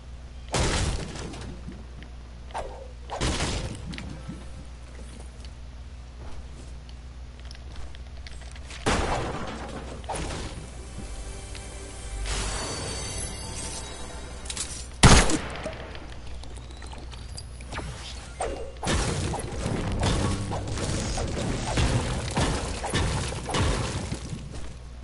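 Fireworks are set off outdoors, heard as scattered sharp bangs and crackling bursts at irregular intervals, some louder and closer, over a steady background of game noise.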